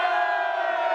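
A cricket crowd at a European Cricket Championship finals day roars together in a short, sustained burst of cheering and shouting, loud and dense, filling the whole second without a break.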